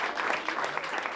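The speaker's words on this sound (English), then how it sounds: "this tradition of being clapped and cheered in by the officials who've just clapped and cheered out the outgoing Prime Minister" A brief burst of steady clapping comes from officials welcoming a new Prime Minister in a Whitehall clapping-in ceremony, close and continuous for just over a second.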